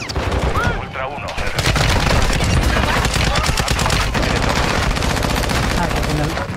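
Rapid automatic gunfire from Call of Duty Warzone DMZ rattles in dense bursts, loud and near, with scattered single shots mixed in and a voice calling out briefly.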